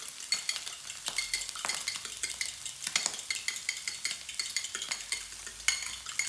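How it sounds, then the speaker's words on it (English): Two eggs stirred with a fork in a pan over heat, a steady rhythm of light scraping and clicking strokes over a soft background sizzle, close and moderately loud with no talking. "give it a bit of a stir"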